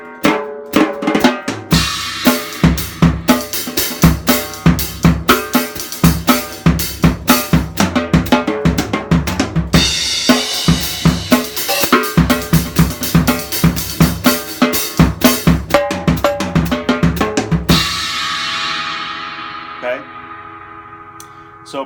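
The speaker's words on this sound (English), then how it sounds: "If I'm playing an eighth note groove and then I switch to a triplet fill, it sounds kind of neat." A drum kit plays an eighth-note groove and then breaks into sixteenth-note triplet fills, loud crisp hits with cymbals in a steady rhythm for about eighteen seconds before the last crash rings out and fades.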